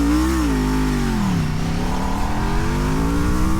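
A loud 2026 Norton Manx R motorcycle engine revs up and drops back, pitch rising and falling close by, with a steady throaty rumble throughout.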